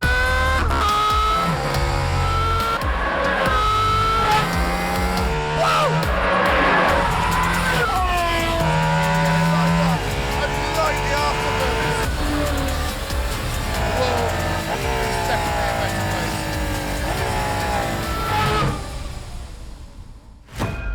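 An Aston Martin Valkyrie hypercar engine revs hard toward its 11,000 RPM ceiling. The loud, rising and falling howls sweep up and down repeatedly and stay close and dominant for about twenty seconds, tailing off at the end.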